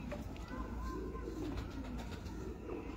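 Lahori (Kasuri) pigeon cooing softly in a low, steady murmur close by, with faint background noise and a hint of talk.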